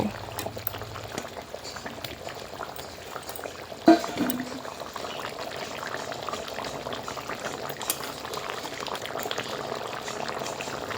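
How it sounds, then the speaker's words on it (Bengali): Bhola fish simmers in gravy in a pot, a soft steady bubbling under quiet kitchen noise, with a brief clunk partway through. "মাছ কিন্তু গ্রেভির সাথে ভালোভাবে ফুটে উঠেছে"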